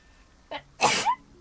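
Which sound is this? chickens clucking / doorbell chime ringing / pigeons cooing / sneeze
sneeze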